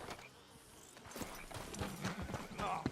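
Horses' hooves clip-clop on the ground in Red Dead Redemption 2, a quick irregular clatter of steps growing busier toward the end, with a voice heard briefly alongside.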